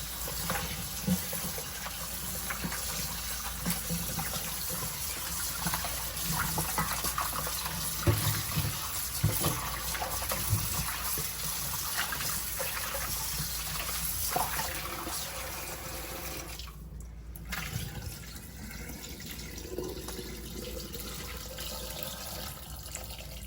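Oxtail being rinsed under a running kitchen tap, a steady close rush of water splashing over meat in a sink, continuous for the whole stretch with a brief clatter midway and no talk.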